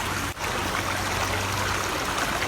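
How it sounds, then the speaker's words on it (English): A small creek flows along a walking path at a bird refuge in Utah, producing a steady, continuous babble of running water that stays close and even throughout, with no talking. "All along our walk here is a little creek."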